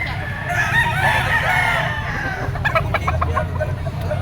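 A gamecock stag crows once, loud and close, a long strained call followed by clucking, over a low background hum.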